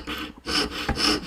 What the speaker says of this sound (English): And then I'm going to start sawing.